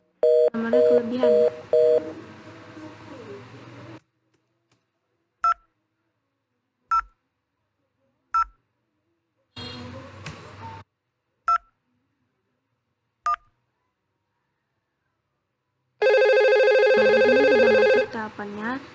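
Simulated VoIP phone in Cisco Packet Tracer: a spell of talk, then five or six short separate keypad dialing beeps, followed by a loud steady electronic ringing tone at the end.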